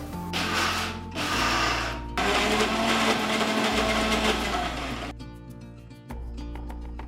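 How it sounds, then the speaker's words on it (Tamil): A wet grinder grinds soaked chana dal without water, whirring and churning steadily, loud and close, with a rough grinding texture that shifts slightly as it runs. "இப்போது மசாலா வடைக்கு கடலைப்பருப்பு அரைச்சிக்கலாம்"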